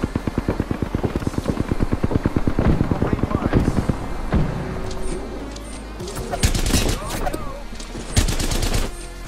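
Rapid automatic gunfire in the video game Apex Legends, a fast, loud burst of shots followed by scattered bursts and impacts, with a player's voice talking over parts of it.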